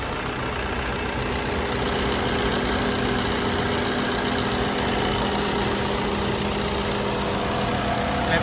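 A 2018 Maruti S-Cross Zeta diesel engine idles close by, a constant low rumble with a faint rattly knock and no change in pace throughout.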